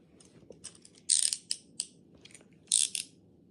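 Handcuffs ratchet closed in a few short bursts of quick metallic clicking, close and crisp against a quiet background.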